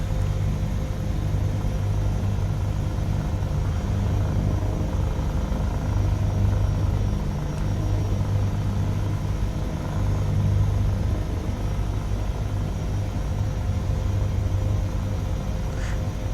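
Simulated Airbus H160 helicopter in Microsoft Flight Simulator during an approach to a helipad at an Italian training facility: a steady, loud low rotor and turbine drone that holds throughout without pause.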